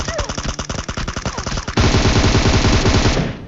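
Rapid automatic gunfire from a PUBG Mobile battle, loud bursts of shots with a brief break before a sustained dense volley, close and dominant.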